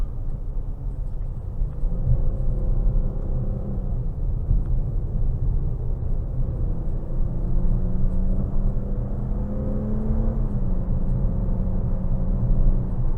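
A 2022 Dodge Challenger GT Blacktop engine in sport mode revs steadily from inside the cabin, its pitch climbing and dropping as quick paddle-shifted upshifts and downshifts come through, with a continuous low rumble and no talking.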